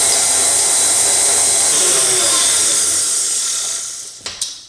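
An electric mixer running at medium-high speed creams brown sugar and butter, giving a loud, continuous whirring hiss up close that fades slightly before two brief knocks at the end.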